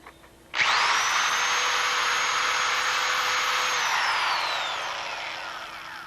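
Power drill boring a bolt hole, starting abruptly and holding a loud, steady high whine for several seconds, with the pitch sliding slightly as it cuts, then easing off near the end.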